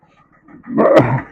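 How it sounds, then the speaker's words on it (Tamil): Several dogs bark outdoors in a neighbourhood street, starting soft and building into a loud, dense burst of overlapping barks near the end. "பாருங்கள் எவ்வளோ நாய் இருக்கு பாருங்க"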